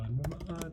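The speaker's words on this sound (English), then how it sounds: "Typing very slowly today, but okay." Slow typing on a computer keyboard during a coding contest: a few soft, uneven key clicks, close and fairly quiet, over a low steady hum.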